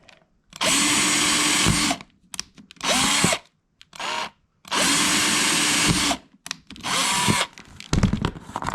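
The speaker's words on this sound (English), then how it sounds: "all I have to do is drill this hole, these 2 holes right there" A power drill bores two holes for a guitar part in four loud, close bursts of high-pitched whirring, with short quiet gaps and small handling clicks between them.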